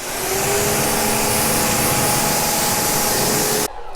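A loud, steady hiss of pressurized water spray runs continuously against the wheels of a 2020 BMW X6, then stops suddenly just before the end.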